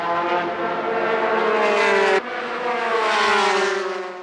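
A Mugen Honda NSX GT race car from the 1998 JGTC season, running on warmed tyres, screams loudly at high revs, its engine note dipping sharply at a gear change midway and then climbing again, with no talk.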